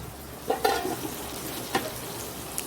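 Bitter gourd slices frying in a hot pan give a steady low sizzle, with a few sharp clinks and scrapes of stirring standing out near the start and middle.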